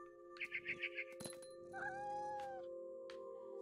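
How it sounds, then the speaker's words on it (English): A cat meows in What Remains of Edith Finch, a quick run of about five short meows followed by a longer drawn-out cry, clear and close over a steady game background hum. "I am a hungry cat."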